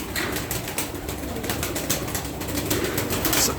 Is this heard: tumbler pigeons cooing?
yes